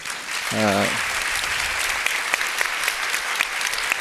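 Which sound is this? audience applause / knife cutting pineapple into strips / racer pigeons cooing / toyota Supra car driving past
audience applause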